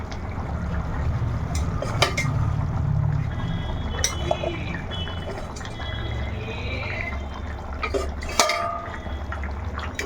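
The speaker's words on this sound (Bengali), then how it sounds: "টকবক করে ঝোলটা একদম ফুটছে" Curry broth with taro and koi fish bubbles in a pot, a steady low simmering rumble under scattered clinks of utensils against the metal pot.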